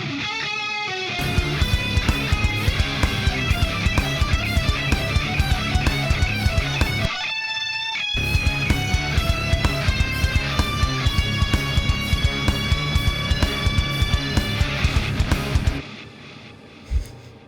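Electric guitar solo played through a Randall amp head with chorus, delay and reverb for a mix of a song, fast and loud against a full band, briefly dropping out partway then ringing into a reverb tail.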